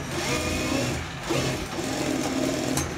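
Sewing machine stitching a folded seam on a blouse, a close, continuous motor whir with a rapid needle rhythm that holds steady from start to finish.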